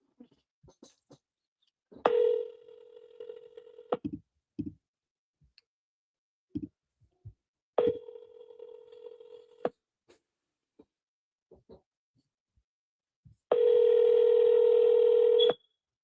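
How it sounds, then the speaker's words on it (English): Telephone keypad dial tones and an answering-machine beep sound as a few short bursts of tones with clicks between them, ending in a long, loud steady beep tone. No one speaks. "Please leave your name and phone number after the beep."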